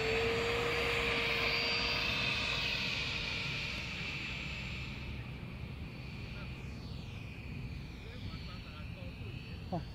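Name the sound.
model airplane taking off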